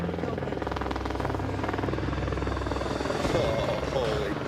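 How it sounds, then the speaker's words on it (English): A helicopter flying in to pick up a crew heading to a ruby deposit, its steady rotor thump and engine drone filling the clip at moderate level, with faint voices mixed beneath. "That helicopter brings us up there, drops us off, flies away."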